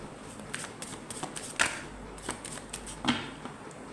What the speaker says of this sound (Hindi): मैं बहुत शफल करके निकालूंगी